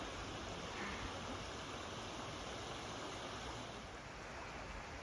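Water rushing along a stream at the Reverie Siam Resort in Pai, Thailand, a steady broadband flow that stays close and even throughout, with no voices.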